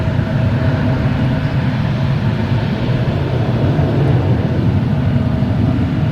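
A jet aircraft at Boston Logan Airport rumbles with a broad, steady engine roar, heard from a distance across the airfield, with no voices.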